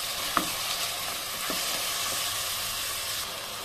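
Meat frying with softened onions in a pot for Hyderabadi methi gosht: a steady close sizzle and hiss with a few faint stirring knocks, no talking.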